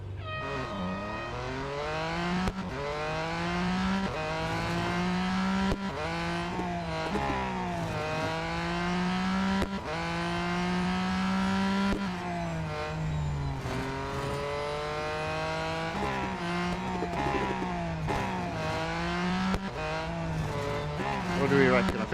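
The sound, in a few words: car racing in video game Real Racing 3, autocross at Melbourne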